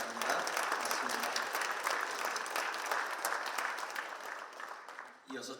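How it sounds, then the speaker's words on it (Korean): Congregation applauding warmly for a pastor at a church inauguration ceremony, a sustained burst of many hands clapping that tapers off near the end, with a voice briefly heard after it. "다시 한번 취임하시는 우리 이글 목사님에게 뜨거운 격려 박수 한번 보내드리기 바랍니다."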